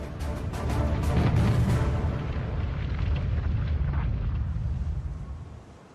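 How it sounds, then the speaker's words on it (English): A torpedo striking the stern of the battleship Bismarck: one deep, sustained rumbling blast that swells and rolls for several seconds before fading, with no voices. "A single torpedo strikes the rear of the ship."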